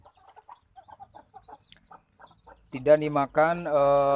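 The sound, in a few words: chicks crying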